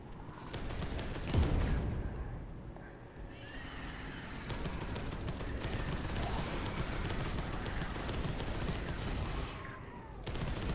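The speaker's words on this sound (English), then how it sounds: "Get him with the auto cannon." Sustained gunfire bursts from an auto cannon in the Warhammer 40,000 video game Space Hulk Deathwing, a loud continuous barrage of rapid shots with a heavy thump near the start, no speech over it.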